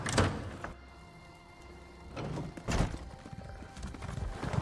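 Horse hooves clip-clop in a video game as the player sets off on horseback, a few uneven hoof hits rising over a low ambient bed with occasional louder thumps.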